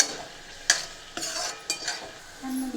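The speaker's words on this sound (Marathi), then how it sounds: "त्याला आपण छान परतून घ्यायचं आहे छान मिक्स करायचं आहे" Spoon stirring and sautéing spiced masala in oil for Maharashtrian eggplant curry, with several soft scraping strokes and light sizzle, close and fairly quiet.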